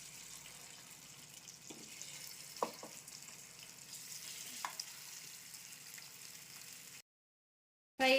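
Fish pieces frying in oil make a soft, steady sizzling hiss with a few faint clicks and taps for about seven seconds, then stop abruptly before a brief loud burst at the end.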